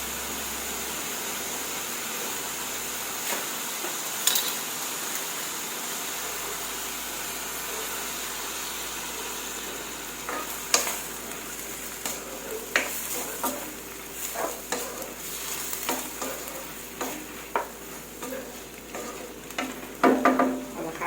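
Beef and liver cooking in a pan: a steady sizzle runs throughout, with irregular scraping clacks from the utensil stirring that grow busier near the end. Nobody talks.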